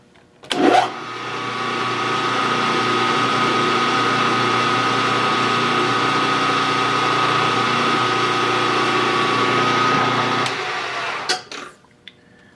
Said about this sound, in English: Put my Joe blocks back in so I can drill to the right depth.